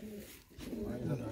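A white-eyed, blue-beaked pigeon coos in low, rolling phrases close by, the cooing swelling in the second half while a person talks nearby.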